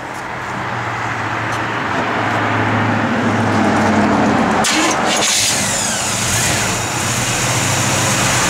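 Engine of a 1951 Chevrolet 3100 five-window pickup truck running loud and close, a steady low rumble that rises and shifts midway as a mechanical clunk and higher whine come in.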